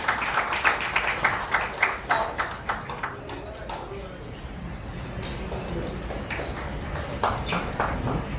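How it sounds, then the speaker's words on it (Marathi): Audience clapping at a song and label launch event, a brisk run of claps that fades after a few seconds, then returns more thinly under a lingering hum. "जोरदार टाळ्या त्यांच्यासाठी."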